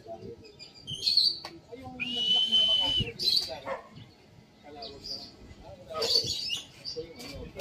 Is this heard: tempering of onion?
no